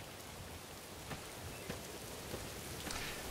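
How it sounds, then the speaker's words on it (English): Steady rainfall in the video game Morrowind, a dense even hiss of drops on surfaces with faint scattered patters, continuous and fairly quiet, with no talking. "oh, and it's raining."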